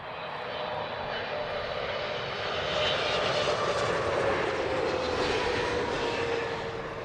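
Airliner landing at Heathrow Airport on a summer evening, a steady broadband jet roar with a faint whine, swelling slightly midway as it passes fairly close, with no talk.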